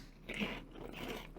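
Two sharp crunchy bites into a homemade fried pork rind, close and crisp, with no talking.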